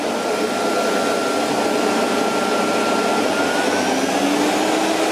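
A vintage 1980 Miele S224 Electronic vacuum cleaner runs steadily with a loud, close, continuous roaring whine and a slight rising pitch drift, with no breaks and no voices.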